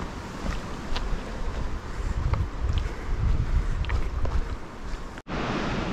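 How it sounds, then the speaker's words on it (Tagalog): Strong wind roars across a mountain trail on the Mount Ugo traverse, buffeting the microphone in loud, gusty surges that rumble without a break for several seconds before a brief cutoff and resumption. "Grabe lakas ng hangin dito."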